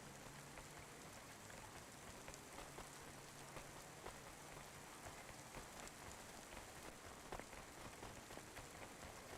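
Steady rain pours down in the video game Cloudpunk, a dense, continuous patter of drops on surfaces with faint scattered splashes, no voices over it.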